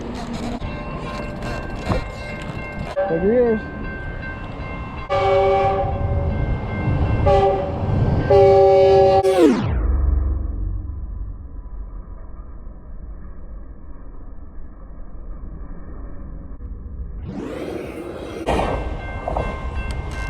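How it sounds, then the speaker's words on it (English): A train rumbles close by with several long blasts of its horn, then the rumble fades to a steady low drone before rising again; someone speaks briefly. "I hear a train."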